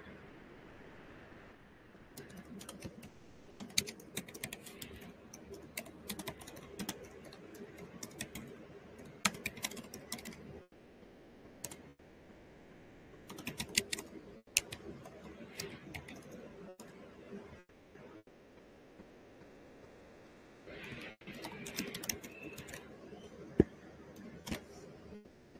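Typing on a computer keyboard, quiet irregular clusters of key taps spread across the stretch, faint and somewhat distant with gaps between bursts.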